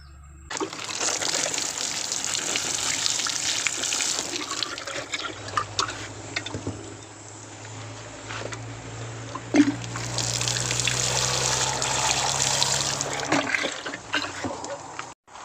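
Water trickling and pouring onto a seedling tray, a faint, steady splashing flow in two main stretches with a brief quieter pause between.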